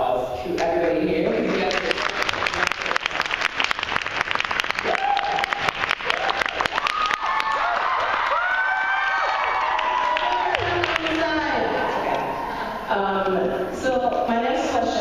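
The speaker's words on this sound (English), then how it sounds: "I wanted to just kind of give a little round of applause to everybody here." A VidCon crowd at a community panel on sexual orientation erupts in loud applause with cheers, whoops and shouting, sustained and close, while voices carry through the noise.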